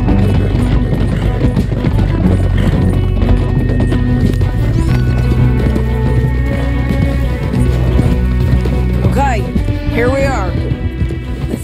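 Horses gallop with steady clip-clop hoofbeats in the Red Dead Redemption 2 video game, continuous and fairly loud, with a brief whinny near the end and game music or ambience underneath.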